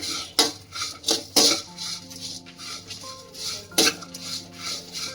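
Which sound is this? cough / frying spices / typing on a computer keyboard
frying spices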